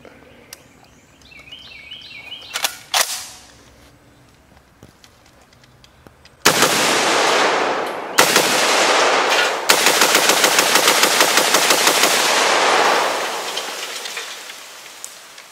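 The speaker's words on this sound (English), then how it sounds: "Now it's only a semi-automatic, but I'm gonna try to make it run full auto if I can." A Browning BAR 1918 rifle, semi-automatic but pushed to fire as fast as possible, cracks out long, dense strings of rapid shots at close range, with a few scattered single shots before the heavy sustained bursts and no talking.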